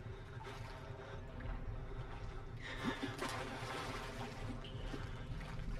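Continuous sloshing and splashing through water in the video game Outlast, a steady wet churning with occasional louder surges, no voices.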